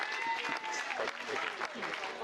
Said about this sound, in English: Massive round of applause for my dad,